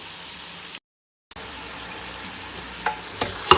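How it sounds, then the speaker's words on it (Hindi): Mutton paya fries in a pan with a steady close sizzle, cut by a short silent gap, then resumes with a few louder scrapes and clatters of stirring near the end; no voices. "अच्छे से 5-7 मिनट के लिए इसको मज़ीद भूनेंगे"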